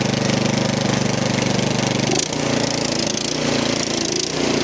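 An MTD snow blower with a Powermore 208cc engine runs loud and close, its throttle hunting with a rhythmic surging throb and a brief dip partway through before it settles back.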